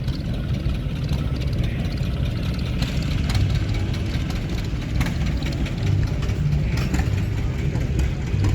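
Old Minneapolis Moline and John Deere Johnny Popper tractor engines idle at a show, a steady low rumbling drone with a faint chugging texture running continuously throughout.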